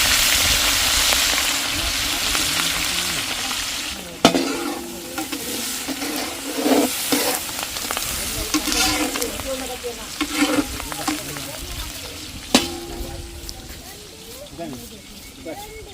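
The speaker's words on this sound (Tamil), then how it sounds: "கடுகு வெந்தயம் சீரகம் எல்லாம் ஒரே அடியாவே போடுறீங்கன்னு" Mustard seeds, fenugreek and cumin sizzle and crackle loudly in hot oil with steady stirring, and sharp pops come through now and then while people talk over the cooking.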